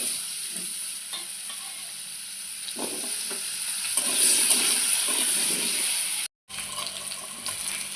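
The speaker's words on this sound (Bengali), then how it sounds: "এবার আলুগুলো ভেজে নেব।" Potatoes fry in hot mustard oil in a pan for a Bengali dish of katla fish head with cabbage. A steady, close sizzle runs throughout with light stirring, then a brief drop to silence near the end. Nobody speaks.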